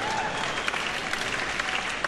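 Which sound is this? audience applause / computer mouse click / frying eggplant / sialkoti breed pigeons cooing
audience applause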